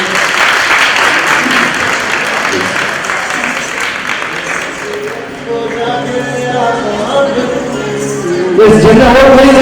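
A loud crowd applauds dancers at a Bhavnagar city foundation day celebration, sustained clapping filling the space while a voice speaks over it and music comes in toward the end.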